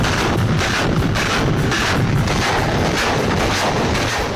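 Ukrainian tanks firing on Russian positions in Donetsk, heard as a dense, continuous barrage of heavy booms and blasts with wind buffeting the microphone and no voices.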